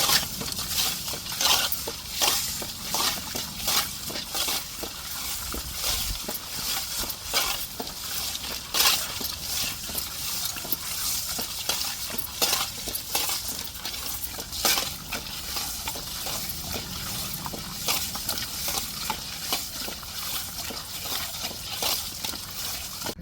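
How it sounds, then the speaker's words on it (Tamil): Sala fish is rubbed and scrubbed with coarse rock salt, making a continuous gritty rasping and scraping with repeated sharp crunches, close up and with no talk. "இப்போ உப்புக்கல் போட்டிருக்கேன் நல்லா உரசிடுவாங்க"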